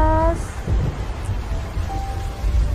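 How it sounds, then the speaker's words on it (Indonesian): Heavy rain pours in a steady broadband hiss with low rumbling underneath, starting with a brief tonal chime before settling into continuous downpour. "hujan deras."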